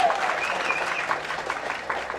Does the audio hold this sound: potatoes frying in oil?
no